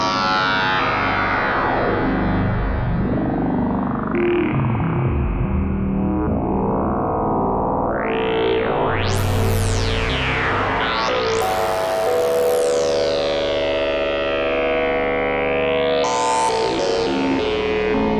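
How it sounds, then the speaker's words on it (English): Modular synth oscillator with modulation pushed further, a dense distorted buzzing tone that warps and sweeps wildly in pitch, with rising and falling swoops and heavy effects, loud and continuous throughout. "I think this oscillator sounds really excellent."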